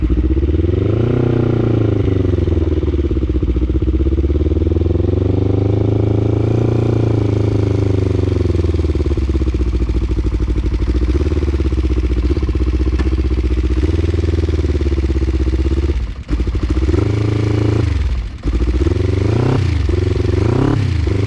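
A 2006 Kawasaki Ninja 500R motorcycle rides along with a loud, steady engine drone that rises and falls with the throttle, heavy wind noise throughout and two brief dips near the end.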